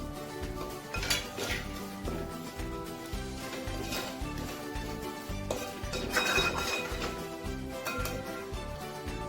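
Raw mango pieces are stirred into hot pickle spice powder in a pan, giving repeated metallic scrapes and clinks of a spoon against the vessel, steady and close throughout with a brief louder burst of clattering near the end.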